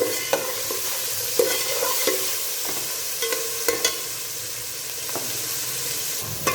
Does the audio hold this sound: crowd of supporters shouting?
no